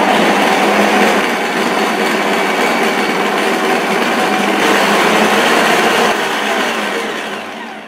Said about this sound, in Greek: Θα προσθέσουμε το βούτυρο και θα το χτυπήσουμε μέχρι να αφρατεύσει για λίγο. Σε μέτρια ταχύτητα.